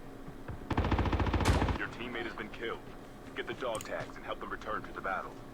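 Rapid automatic gunfire from an Uzi-type submachine gun in the mobile shooter Call of Duty Mobile, a loud, close burst of about a second, followed by someone talking excitedly over faint background game noise.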